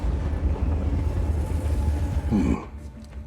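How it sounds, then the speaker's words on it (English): A train rolls steadily along desert tracks in the video game Just Cause 4, a loud continuous low rumble and rattle that cuts off near the end. "We're taking the train."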